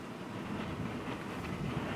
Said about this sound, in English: And this is wind feeding into it,